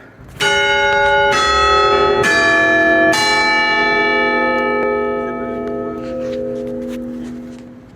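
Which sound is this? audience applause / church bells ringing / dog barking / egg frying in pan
church bells ringing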